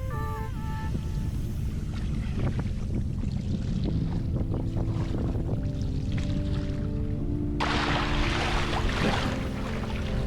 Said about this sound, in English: As soon as we got here, the wind picked up